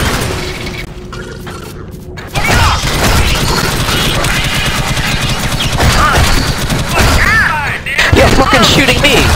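Dense, loud gunfire fills the video game Alien Swarm, with rapid automatic bursts, booms and mechanical clatter running nearly continuously. Voices speak over the shooting.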